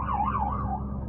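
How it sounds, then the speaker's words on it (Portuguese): An ambulance siren on a highway wails in a smooth rising-and-falling tone, fairly close and steady over low road rumble, with no talking. "Uma ambulância aí."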